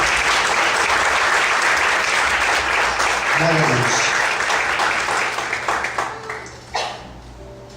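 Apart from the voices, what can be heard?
church congregation applauding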